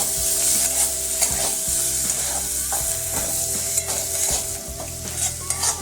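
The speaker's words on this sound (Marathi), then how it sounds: "त्याच्यामध्ये आता कोथंबीर घालायची आहे कोथंबीर पण चांगली परतून घ्यायची आहे" Coriander stirred into a spicy prawn masala sautéing in a pan, with steady sizzling and repeated scraping, clinking stir strokes close by, and no one talking.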